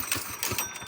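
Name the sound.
go-kart engine sputtering on pull start after lake sinking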